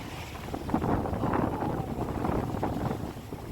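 Sea waves at Chennai's Marina beach roll in as a broad, steady rushing surge, swelling and then easing, heard outdoors with heavy wind buffeting the microphone and no talk.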